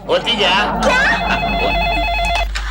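A telephone rings with an electronic trill that repeats steadily in the second half, while people talk over the start of the ringing in an indoor room.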